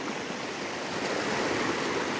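Clear water streams near a waterfall in green hills, giving a constant rushing, burbling wash that holds steady throughout, with no voices.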